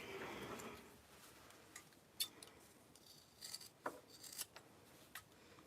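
Quiet snips of craft scissors trimming fabric seams, a handful of short crisp clicks spaced irregularly, close and soft, with no talking.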